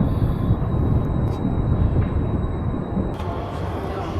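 A subway train rumbles loudly through a station or tunnel, a dense continuous roar with faint high squeals, heard up close from on board or on the platform.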